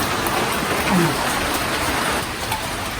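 Heavy rain pours steadily in a dense, even hiss of falling water on a house, loud and close, with a faint voice briefly under it.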